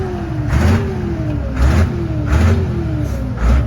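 A Deutz-Fahr Agrostar 6.11 tractor engine revs up in four repeated surges, rising from a steady idle and dropping back each time, loud and close with no talking.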